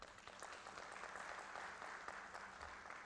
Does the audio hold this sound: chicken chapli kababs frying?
no